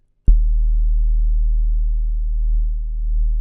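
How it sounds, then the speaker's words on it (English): A steady, low synthesized tone starts abruptly and holds, its loudness gently swelling and dipping as it wavers between left and right. "You can hear that wavering between left and right."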